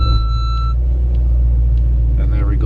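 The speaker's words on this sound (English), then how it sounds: "So let's bounce back up on these dyno rollers." A 2020 AMG E63s idles and rolls back onto dyno rollers, a deep steady engine rumble filling the space, with faint squeaks and a brief tonal whine near the start.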